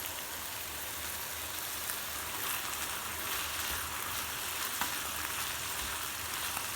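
Ground meat and peppers fry in a pan for a pide filling, giving a steady, moderately loud sizzle like light rain with faint crackles throughout, no talking.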